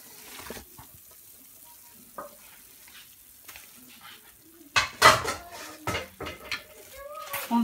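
Batter with added flour stirred in a bowl with a utensil, soft scraping at first, then louder clinks and clatters against the bowl toward the end, close by.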